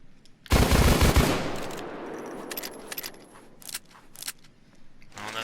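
Taurus Judge shotgun revolver in the game Payday 2: a rapid burst of loud blasts in about a second, followed by scattered clicks and mechanical reloading clatter, with a brief final shot.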